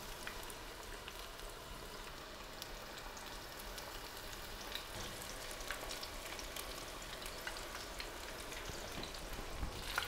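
Mixed vegetable pakoras deep-frying in oil over a low flame, a steady dense crackling sizzle with scattered pops, holding even and close throughout with no talking.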